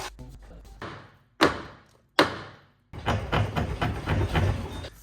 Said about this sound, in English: We'll just keep hammering it until the rear subframe drops.